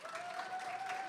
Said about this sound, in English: Clap it up for Arrow.